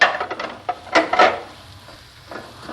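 A spoon stirring shredded cabbage and mint through vegetable Manchurian in a pan over high heat, giving several quick scraping clatters against the metal in close succession, then softer scrapes with a light sizzle beneath.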